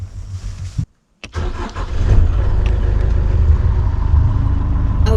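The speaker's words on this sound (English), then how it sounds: "Oh good, our one engine has started." A sailboat's one working engine, readied for departure from the Bahamas, coughs to life after a brief silence and settles into a loud, steady, close-up rumble.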